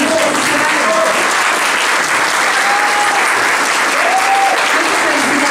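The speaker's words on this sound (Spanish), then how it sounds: "se vale aplaudir" Loud, dense applause from a large audience at a ceremony honoring women's philanthropic work, sustained evenly throughout with faint voices and cheers mixed into the clapping.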